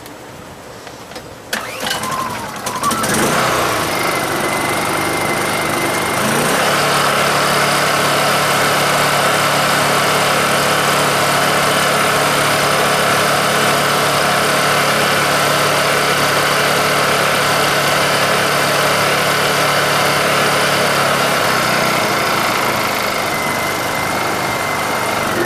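A Honda EU2000i generator with a freshly cleaned carburetor is pulled into life after a few rattles, then runs loud and steady up close, its pitch shifting slightly once as the engine settles.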